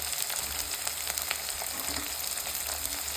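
Steady sizzling of onion, green chili and garlic sautéing in hot oil, close up, with faint crackles and no voices.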